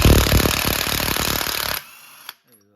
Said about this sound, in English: got my impact gun right here, and it's a 21 millimeter socket.